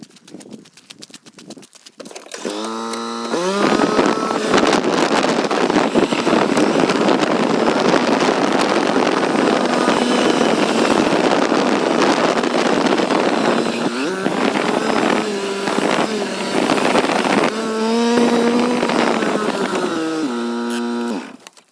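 A vehicle drives along toward a well house, its steady engine and road noise holding loud and continuous after a quiet start, with brief dips and shifts in tone near the end.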